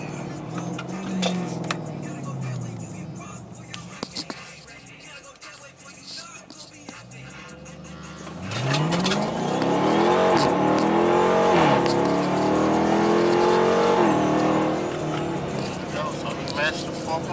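A 2015 Dodge Charger R/T with a modified differential revs hard and launches, engine note climbing through rising sweeps with tire spin, loud and close after a quieter idle stretch, someone talking early on.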